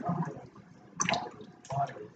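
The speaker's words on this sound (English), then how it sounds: "scaling it under the water" Fish being scaled under running water in a kitchen sink: scraping bursts in two or three strokes over the flow of water, with soft talking underneath.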